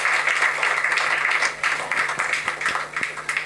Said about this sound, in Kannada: ಒಂದು ದೊಡ್ಡ ಚಪ್ಪಾಳೆ ಒಂದಿಗೆ ಅವ್ರನ್ನ ನಾವು ಕರೆದಾಡಬೇಕು